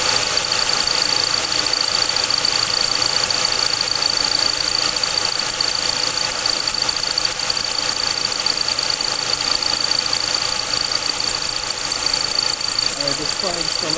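A 2004 Chrysler PT Cruiser engine idles at normal operating temperature during a cooling system check, giving a loud, constant, close mechanical hum with a steady high whine and faint ticking throughout, no voices over it.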